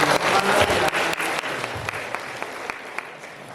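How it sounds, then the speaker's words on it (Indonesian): Audience applause at the opening ceremony of a provincial madrasah science competition, a dense wash of clapping that starts loud and gradually thins out, with individual sharp claps standing out near the end. "Mohon tepuk tangan ini."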